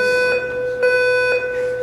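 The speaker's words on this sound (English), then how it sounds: "Looks like somebody pulled an alarm." A building fire alarm sounds during a meeting, a loud, steady electronic tone pulsing in regular beats about every half second, close and alone with no talk over it.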